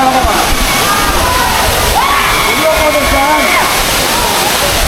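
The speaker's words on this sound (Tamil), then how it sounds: "ஃபால்ஸ் பார்க்குறீங்களா" Steady, dense roar of Aagaya Gangai waterfall at Kolli Hills, Tamil Nadu, filling the whole clip close and loud while people talk over it.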